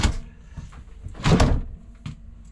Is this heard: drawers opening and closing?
yes